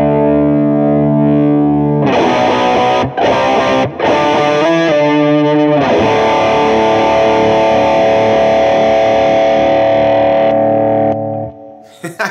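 Electric guitar played through an overdrive pedal stacked with a distortion pedal: loud, saturated sustained chords and riffs with brief breaks and stabs, ringing out alone and fading at the end.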